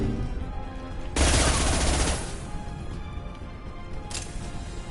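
Gunfire and a biotic impact shot power in the Mass Effect video game: a sudden loud burst of crackling fire and impact lasting about a second, then a fainter second blast over a dense game soundscape.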